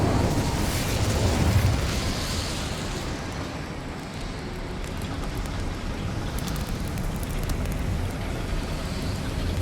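An Incendio fire spell cast in Hogwarts Legacy bursts out as a loud, roaring whoosh of flame, swelling early and then sustaining a rumbling, crackling fiery rush that slowly settles.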